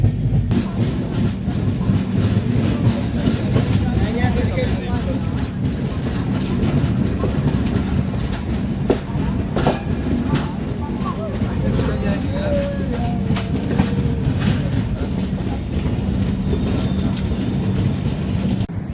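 Mandovi Express running on the Konkan Railway during the monsoon: a steady, loud rumble of wheels and carriage noise with faint clickety-clack, continuous throughout, heard from a window-side lower seat inside the coach; voices murmur in the background.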